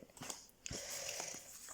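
A dog sniffs and crunches kibble nearby in short bursts, with soft chewing clicks over quiet background hiss.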